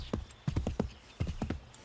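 A horse's hooves clip-clop at a trot while riding in the video game Assassin's Creed 3: several quick, close knocks in uneven pairs and groups, with a faint voice in the background.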